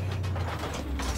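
A tank cannon in the Armored Warfare video game takes an armor-piercing round, a short, continuous mechanical ratcheting and clanking of the loading gear over a deep engine rumble.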